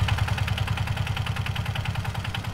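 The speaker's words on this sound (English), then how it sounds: "The engine sound changes as well, depending on whether you're moving forwards or reversing or idle." A tank engine in a video game rumbles steadily, with a rapid rhythmic throb and a faint mechanical clatter, running continuously at close range with no talking.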